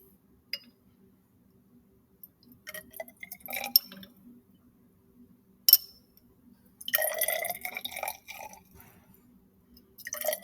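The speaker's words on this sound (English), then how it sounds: "I'm going to pour about 1/3 of it into each test tube." Liquid poured from a container into three glass test tubes at a lab bench, giving short bursts of splashing and trickling with small glass clinks, close and fairly quiet, separated by pauses.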